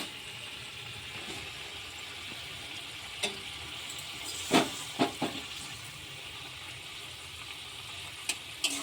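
Mourala fish sour curry bubbling and sizzling steadily in a pan, a soft continuous hiss broken by a few sharp pops and clinks near the middle and end, with no talking.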